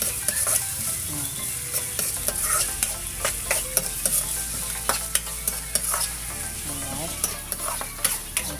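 Ginger sautéing in a pan for duck kaldereta, a loud close sizzle with frequent clattering scrapes of a spatula stirring throughout.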